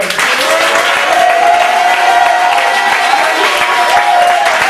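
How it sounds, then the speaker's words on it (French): A congregation applauds steadily at a French-language church worship service praising the Lord, dense continuous clapping with some cheering voices mixed in, loud and sustained throughout. "Si tu es content, acclame le Seigneur."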